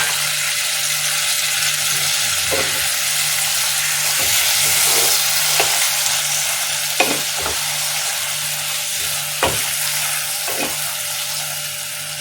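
Spiced masala for mutton curry sizzles steadily in a kadai after sour yogurt is added, a dense close frying hiss broken by periodic scrapes and knocks of a stirring spoon, with no talk.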